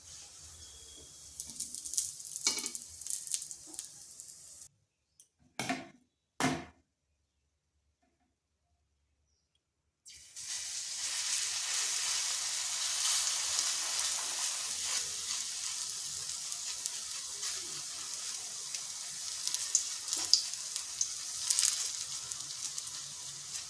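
Potato snack pieces for a vegetarian breakfast sizzle steadily in hot oil in a pan, with a brief break and a few clinks, then a continuous bright frying hiss resumes and holds.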